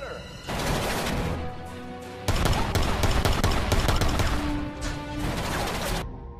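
Gunfire from the action film Expendables 2, a dense sustained burst of rapid automatic shots with heavy impacts and crashes, loud and close, over a busy soundtrack.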